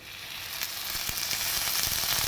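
A spoonful of oil frying in a pan while making okra chutney, a close, steady crackling sizzle that builds slightly over a couple of seconds.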